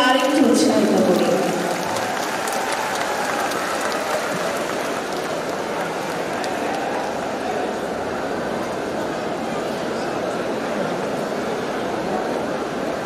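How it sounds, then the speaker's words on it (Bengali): Audience applause at a school cultural program as a house receives the runner-up trophy, a steady dense clapping from a large crowd that starts louder and then settles into an even, sustained patter. "সবাই একটি জোরে করতালির মাধ্যমে আমরা তাদেরকে আরেকটু উৎসাহিত করি।"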